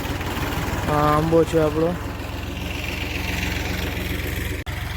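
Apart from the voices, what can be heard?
tractor engine running on a farm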